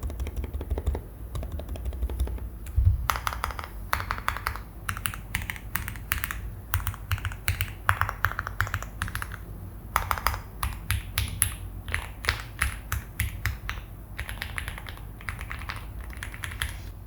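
Steady typing on a modded Zuoya GMK104 mechanical keyboard with a foam-dampened space bar, producing dense, muted, close-up key clacks in rapid irregular bursts and short pauses.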